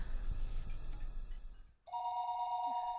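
A telephone rings in the Higurashi video game, a steady electronic ringing tone starting partway through after a short gap, clear and close against quiet background game sound.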